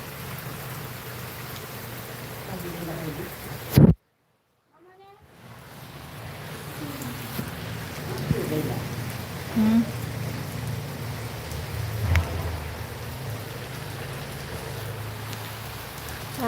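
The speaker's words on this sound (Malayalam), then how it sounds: "ചാറ്റൽ മഴ" Light drizzle on a rainy evening, a steady soft hiss of rain that cuts out abruptly for about a second, then gradually returns, with a few faint thuds and small sounds scattered through it.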